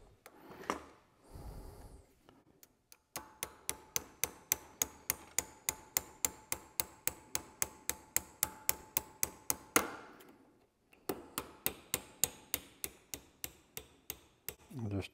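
Steady series of sharp hammer taps on the baffle hinge of an MGB oil pan, about twenty evenly spaced close knocks, a brief pause, then another quick run of taps.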